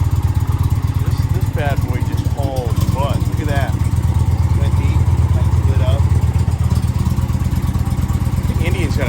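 An Indian motorcycle fitted with a Stage 1 air cleaner idles nearby in a loud, steady low chugging pulse, with someone talking over the engine throughout.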